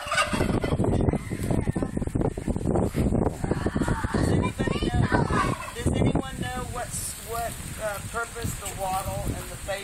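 Chickens clucking and calling inside a backyard coop with a rooster nearby, their rapid, choppy calls rising over wind buffeting the microphone while people chat close by.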